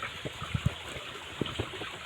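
Spring water flows out of a cave, trickling and splashing with small irregular gurgles over a steady rushing hiss, fairly close and with no voices.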